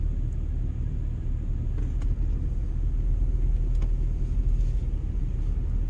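A Jeep used as a farm truck drives along with a steady, loud low-pitched engine and road rumble that fills the whole stretch, without any talk.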